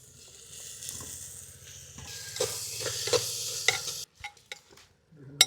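Tomatoes frying with shallots, garlic and ginger in a pan outdoors in a village kitchen: steady soft sizzling with stirring scrapes and clinks, ending in a few sharper utensil knocks.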